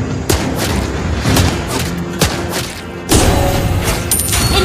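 Repeated gunfire from Clint's attack in Mobile Legends: Bang Bang, loud sharp bursts in a dense busy game mix, with a heavier volley near the end.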